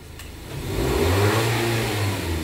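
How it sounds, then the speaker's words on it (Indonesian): A Nissan Livina engine fitted with an IForce unit revs up from idle, its drone rising and holding loud and steady, close by. "Coba digas."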